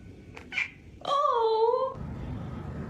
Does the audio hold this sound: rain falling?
no